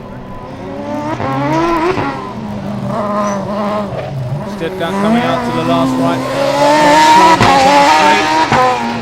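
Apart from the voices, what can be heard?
Formula Student race car on autocross course, braking into last corner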